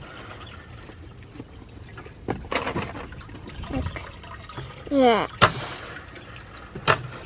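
Water poured into a rabbit's drinking container on a homestead, a short gurgling fill with a rising tone, amid scattered handling clatter and a brief spoken remark.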